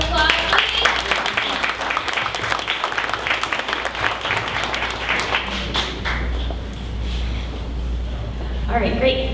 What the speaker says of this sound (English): Let's give Jason one more round of applause, please.